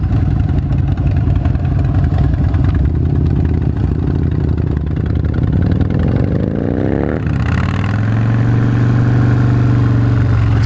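A 2016 Harley-Davidson Fat Bob engine rumbles loudly and steadily while riding, with a rising rev that drops off and then settles into a deep, even drone, and no talk over it.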